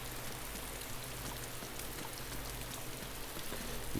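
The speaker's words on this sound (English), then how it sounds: "we just love it when it starts to rain" Steady rain falls in the DayZ video game, a faint continuous patter and hiss of drops on surfaces with a low hum beneath, no voices.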